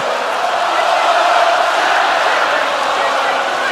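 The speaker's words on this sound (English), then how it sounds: "Yeah, the crowd have got really behind her." A big boxing crowd roars in support of Savannah Marshall during her fight with Claressa Shields, a dense, loud and continuous wash of cheering filling the arena without breaks.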